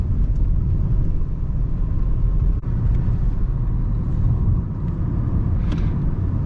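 A steady low rumble of a Nissan Sentra rolling along a wet road, constant road and engine noise throughout with a brief bump midway.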